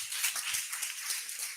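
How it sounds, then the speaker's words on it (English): Brief, fairly faint clapping from a small audience at a career summer program for students, a short scattered patter lasting under two seconds. "A round of applause for him."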